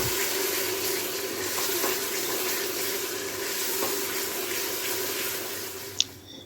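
Whole cumin seeds and turmeric roasting in a hot pan give off a steady, even sizzling hiss, close and continuous, with a single small click near the end.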